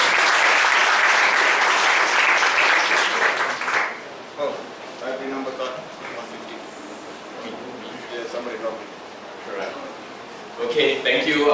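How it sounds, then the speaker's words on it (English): Applause breaks out after a training session, loud crowd clapping at first that fades after a few seconds into scattered claps mixed with murmuring voices. "a big round of applause"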